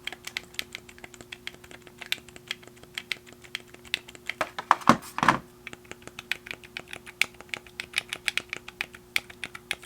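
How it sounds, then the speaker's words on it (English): Rapid, light plastic button clicks tap repeatedly up close on an 8Bitdo SN30 wireless gamepad, with a couple of louder clacks in the middle. "Let's go ahead and hear these buttons."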